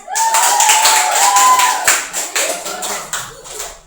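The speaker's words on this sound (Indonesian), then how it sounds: "Tepuk tangannya yang keras." In a high school classroom, students clap loudly for the last group. A dense burst of close hand claps starts strong and then thins into scattered, fading claps.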